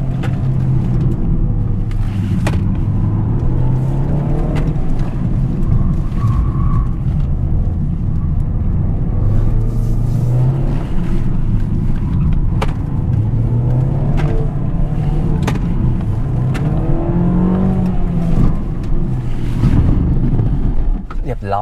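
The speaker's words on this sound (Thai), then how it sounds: "ตอนนี้เป็นการทดลองขับแบบเต็มรอบสนามนะครับโดยผมอยู่ในเจ้า GLA 200นะครับ" A Mercedes-AMG GLA 200 drives a full lap of a race track, its engine droning steadily from inside the cabin with wind and road roar, while a driver talks over it throughout.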